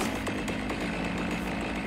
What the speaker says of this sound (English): It's a chainsaw,